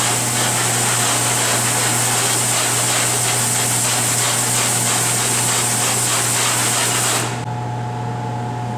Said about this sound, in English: We are ready to spray the water to remove the penetrant